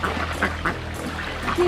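Ducks quacking near a swan at a small animal sanctuary, a few short nasal calls close by over a steady background murmur.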